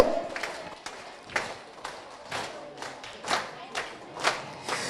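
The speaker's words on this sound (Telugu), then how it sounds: "చేతులు పైకి లేపి కొట్టాలి అందరు చప్పట్లు" A devotional gathering during a Dhanurmasa Vratham ritual claps along in unison, sharp regular hand claps roughly once a second, fairly close and loud, with chanting voices mixed in beneath them.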